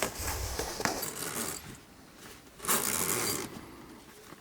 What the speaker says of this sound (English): You add them by zippers here